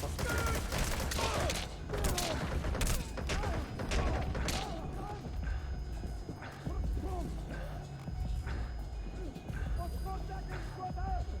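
Video-game gunfire rattles in loud, rapid bursts of sharp cracks in the foreground, with pauses between volleys, as excited voices shout over the shooting.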